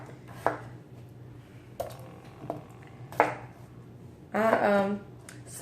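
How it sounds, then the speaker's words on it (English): Potatoes being sliced with a knife on a board while cooking for a big crowd, making a few separate sharp chopping knocks spaced apart, close by, with a brief voice partway through. "I am still slicing potatoes."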